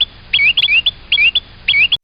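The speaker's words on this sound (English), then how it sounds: "thrush" A thrush gives bright, high, sliding whistled calls in quick clustered bursts, loud and close, with short gaps between the phrases and no voices.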